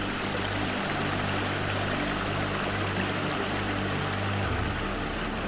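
Stream water flows through a forest at a national recreation forest on Gayasan mountain, a constant near rush and gurgle with a low steady hum beneath it and no talking.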